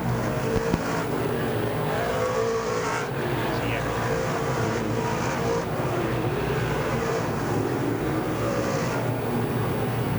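DIRTcar 358 modified race cars roar around the dirt oval at Merrittville Speedway, a dense continuous engine drone with cars sweeping past, heard from the stands under a fairly distant announcer's voice.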